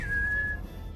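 A person whistles one steady, clear sustained note that holds for about half a second over a low background rumble, with no talking.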